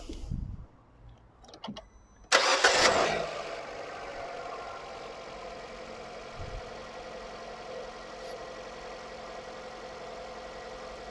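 Fiat Egea car, suspected of a burnt cylinder head gasket, cranks briefly and catches with a loud burst, then settles into a steady, even idle hum that continues quietly to the end.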